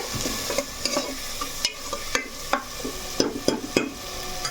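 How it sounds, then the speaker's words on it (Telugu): Onion paste fries and is stirred in a pan for a chicken curry, with a low sizzle under repeated scraping knocks of the spoon against the metal, close and fairly loud. "ఉల్లిపాయ పేస్ట్ అయితే మనకు కొంచెం బాగా వేగాలండి"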